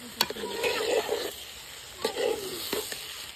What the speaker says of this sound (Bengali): চালটা ভালো করে কষে নিয়েছি